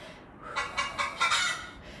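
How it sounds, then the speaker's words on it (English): Chicken clucks and squawks serve as a workout timer alarm, several short bursts in quick succession at moderate volume from a nearby speaker during a barefoot bootcamp core session. "So the chicken goes off when the timer expires."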